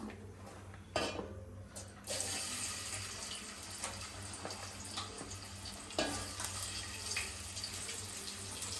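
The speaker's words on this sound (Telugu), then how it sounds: "ఆనియన్ మంచిగా రెడ్ కలర్ వచ్చేదాకా ఫ్రై చేసుకోవాలి ఫస్ట్ ఆనియన్ వేస్తున్నా" Onions fry in a pan for a Hyderabadi-style mixed veg dum biryani, with a steady close sizzle, occasional clinks and scrapes of a spoon against the pan, and no talk.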